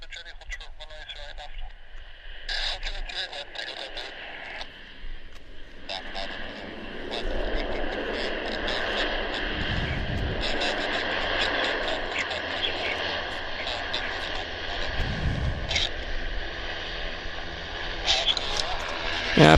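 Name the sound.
Saab 340 turboprop airplane landing at Vancouver Airport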